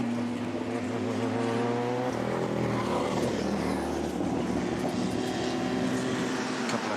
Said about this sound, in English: Cars coming down, pit road 27 being one of them.